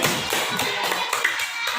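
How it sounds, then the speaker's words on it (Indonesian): Students and a teacher in a classroom clapping together, a quick, steady run of claps in an indoor room, with no talking over them. "kasih tepuk tangan boleh nggak Bu Des?"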